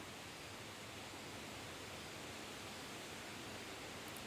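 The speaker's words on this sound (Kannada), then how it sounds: "ಮಳೆ ಸಿಕ್ಕಾಪಟ್ಟೆ ಸುಮ್ಮನೆ ಉಯ್ತಾನೇ ಐತೆ" Heavy rain pours down steadily on a farm during ginger field work, a dense, even hiss that stays constant throughout with no voices.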